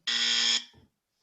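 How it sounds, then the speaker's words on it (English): A quiz game buzzer gives a single loud, harsh electronic blast of about half a second, then cuts off sharply with a short trailing tail into silence. "can we test our buzzers out?"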